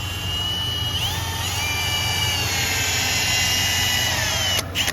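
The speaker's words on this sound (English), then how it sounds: "I just went over to the drill press and grabbed the bit" A drill press drives a poor-quality bit into metal, giving a steady high whine with shifting tones that drones on loud and continuous, with a brief knock near the end.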